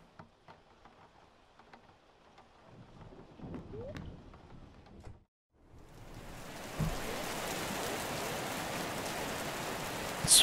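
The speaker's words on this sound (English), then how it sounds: "It's raining." Rain falling in a video game set in an 80s town: quieter ambience first, then after a brief hush a loud, steady, dense hiss of rain that continues to the end, with no voices.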